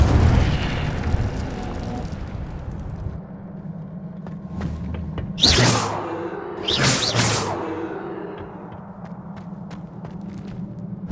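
Incendio fire spell cast in Hogwarts Legacy: two bright whooshing bursts of flame a second or so apart, loud over a low ambient game hum, with no talk.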